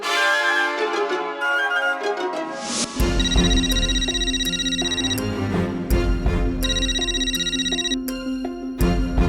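A telephone rings with a repeating electronic ringtone melody, loud and steady, layered over background music in a Hindi TV comedy scene.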